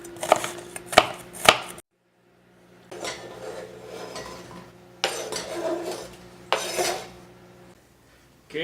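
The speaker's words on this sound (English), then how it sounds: "dice your onion up nice and fine" A knife dices an onion on a cutting board for a meat pie, with quick clusters of sharp chopping taps, scraping and clinking of kitchen utensils, broken by a brief silent pause.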